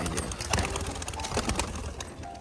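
Pigeons in a home loft give soft, low cooing calls against a steady background hiss, the calls blending into the general noise over a couple of seconds.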